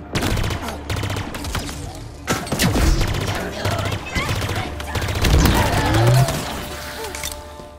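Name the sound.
gunfire from a gun in video game Halo Infinite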